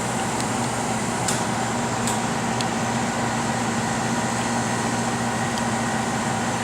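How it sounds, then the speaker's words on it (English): A Plasma-Therm System VII Batchtop RIE etcher chamber pumps down to vacuum with a steady, even mechanical hum and faint high whine, broken only by a few light ticks and with no voices. "The chamber is pumping down to low vac, which is a base pressure of 10 millitorr."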